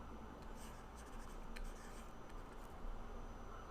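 Marker or chalk writing on a board during a math lesson, heard as faint scratchy strokes in short bursts over a dense, steady room hum, distant and quiet with no voice.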